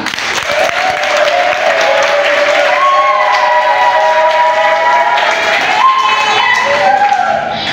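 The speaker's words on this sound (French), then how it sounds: "Est-ce que nous pouvons applaudir pour ça?" An audience at a women's month celebration for March 8 at ISDR applauds loudly and continuously in a hall, with high wavering vocal cheers sliding over the clapping.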